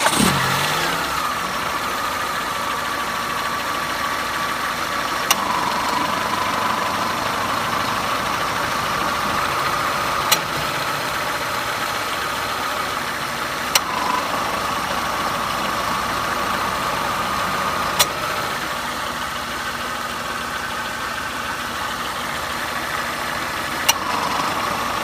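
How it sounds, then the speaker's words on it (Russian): A car's air-conditioning compressor electromagnetic clutch, on a working vehicle with the engine idling, gives sharp clicks that come back at intervals of a few seconds. The clicks rise over a steady, moderately loud idle hum, with no voices. "Давайте посмотрим, как это происходит вживую на исправном автомобиле, как у нас клацает муфта."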